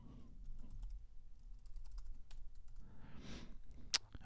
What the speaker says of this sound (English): It's a old Apple compact wired keyboard.